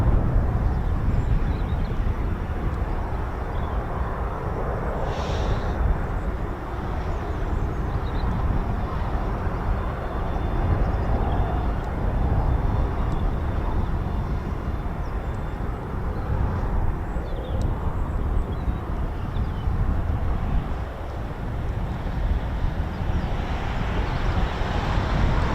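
KC-135 Stratotanker, a 1957-era US Air Force tanker, at RAF Mildenhall: a continuous, loud, broad engine roar with wind rumble, steady throughout without pauses.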